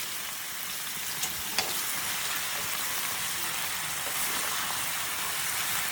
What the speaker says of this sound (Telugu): ఎక్కువ డీప్ ఫ్రైలో కాదు, నార్మల్ ఆయిల్లో వేసుకుంటున్నాము